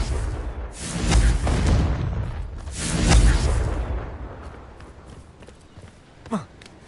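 Confringo spell blasts in Hogwarts Legacy: two heavy booming explosions roll out one after another, each with a rumbling tail, followed by a quieter spell whoosh with a brief rising zap near the end.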